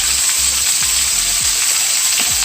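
Chili powder stir-fries in a pan for spicy sundae, a loud continuous sizzle close up with soft rhythmic scraping strokes of the stirring utensil underneath.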